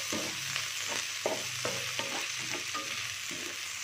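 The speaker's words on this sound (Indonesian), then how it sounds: "Oke, kita goreng ya, kita bolak-balik supaya terinya agak kering ya." Small anchovies fry in hot oil while being stirred and turned, a steady close sizzle broken by repeated scraping strokes of the spatula in the pan, with no talking.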